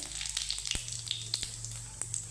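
Whole cumin seeds crackling in hot oil while cooking okra (bhindi), a steady close sizzle with small popping bursts running throughout, no voices.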